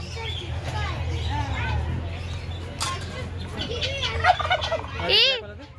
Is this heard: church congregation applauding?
no